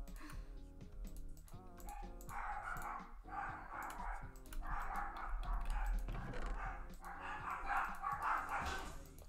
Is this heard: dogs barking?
yes